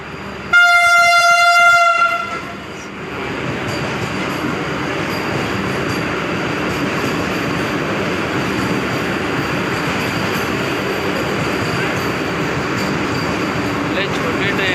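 A Vande Bharat express train blasts its horn for about a second and a half, then roars past with a loud, continuous rushing rumble that holds steady to the end.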